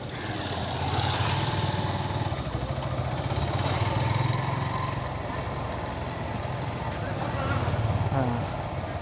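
A Yamaha FZS V3 motorcycle slows on a local road and shifts down, its engine a low steady rumble under wind and road noise with someone talking over it.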